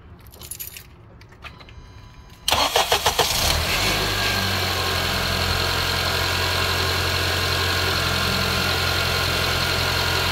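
After a power steering pump replacement, a car engine cranks and catches with a few loud chugs after some key jangling, then settles into a steady, even idle that runs to the end.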